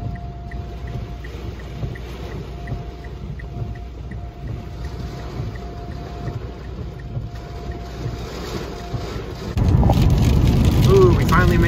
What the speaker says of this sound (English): it was a pretty cool straight line wind event